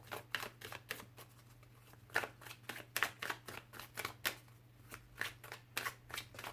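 Tarot cards shuffled and handled for a reading, a run of quick crisp flicks and riffles in a steady rhythm, close and fairly quiet over a low steady hum.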